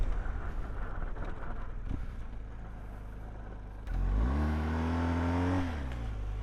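An expensive motorbike riding off road, its engine droning steadily with wind buffeting the microphone, then revving up to a louder rising roar that holds before dropping back, heard close with no talking.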